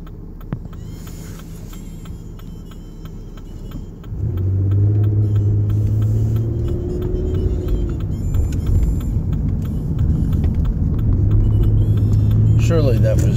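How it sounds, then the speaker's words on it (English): A car passes on a road outside a business on Cobb Parkway, its engine rumble swelling midway and staying loud with a low droning tone, while people talk over it. "Surely that was not Kyle Petty's car."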